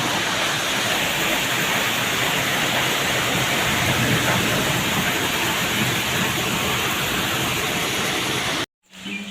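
Rain falls steadily at Pindi Point in Murree, a dense, even hiss of heavy rainfall close by that cuts out abruptly near the end before returning.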